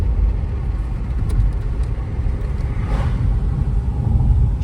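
A Nissan Kicks with a freshly serviced CVT transmission accelerates hard on a test drive, heard from inside as a loud, steady low rumble of engine and road noise that holds throughout without a break.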